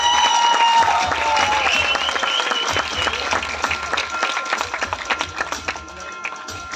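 Audience applause for a folk singer at a gathering in Kokan, a dense, steady wash of clapping that thins into scattered individual claps toward the end.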